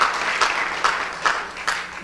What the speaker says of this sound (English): come on, clap your hands and give God praise as you take your seats